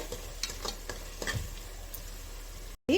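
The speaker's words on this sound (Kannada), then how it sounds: "ಒಂದು ಟೇಬಲ್ ಸ್ಪೂನಷ್ಟು ಶುಂಠಿ ಬೆಳ್ಳುಳ್ಳಿ ಪೇಸ್ಟನ್ನು ಸೇರಿಸ್ಕೊಳ್ತಾ ಇದ್ದೀನಿ ಸೇರಿಸ್ಕೊಂಡು ಇದರ ಹಸಿ ವಾಸನೆ ಹೋಗೋವರೆಗೂ ನಾವು ಹುರ್ಕೋಬೇಕಾಗತ್ತೆ" Ginger garlic paste fries gently in a pan over a low flame, a soft steady sizzle broken by scattered stirring scrapes, near and alone, ending in a brief dropout and a louder final burst.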